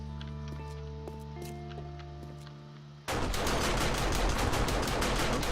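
Automated turrets in modded 7 Days to Die open fire after a quiet tonal game ambience, then a loud, rapid stream of gunshots continues without pause to the end.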